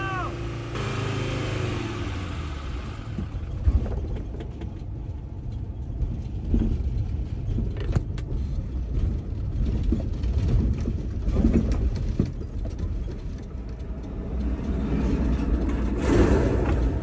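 A Mercedes car engine idles and runs with a steady low rumble, revving unevenly before sputtering out as it stalls on a hill with a fuel delivery fault; brief voices in the cabin.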